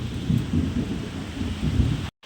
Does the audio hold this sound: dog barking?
no